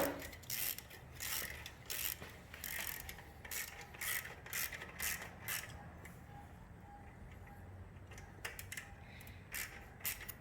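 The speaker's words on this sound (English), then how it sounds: "we're going to tighten that up again with a 12 mil socket back there" Ratchet wrench with a 12 mm socket tightening a bolt on a Triumph Street Scrambler motorcycle, quick bursts of close, crisp clicking in short repeated strokes with brief pauses, alone without talk.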